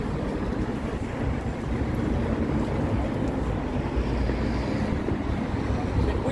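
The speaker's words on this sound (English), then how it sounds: "Windy out" Wind blowing hard outdoors, a steady broadband rumble and buffeting that fills the whole stretch at constant loudness, with no speech over it.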